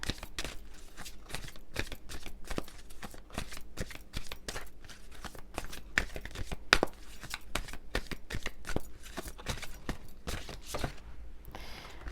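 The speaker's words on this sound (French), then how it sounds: "il y a trop de cartes qui sont tombées" Tarot cards are shuffled by hand in a rapid, continuous run of crisp riffling snaps and slaps, close and fairly quiet, with several cards dropping loose toward the end.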